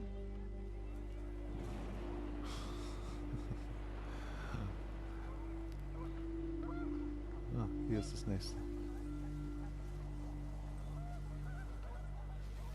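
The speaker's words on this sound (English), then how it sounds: "The wind picked up and panicked geese appeared and quickly went." In the video game What Remains of Edith Finch, panicked geese honk in a few short, nasal bursts over a low steady wind-like drone, fairly faint, while someone speaks briefly.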